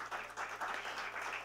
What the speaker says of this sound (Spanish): Un aplauso, por favor, para él, para darle la bienvenida.